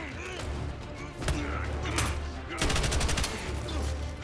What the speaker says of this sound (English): I had a shotgun equipped, so it acted like a bloody assault rifle